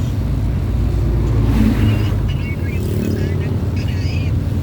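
A large truck drives along with a steady, loud low engine rumble throughout, while people talk over it.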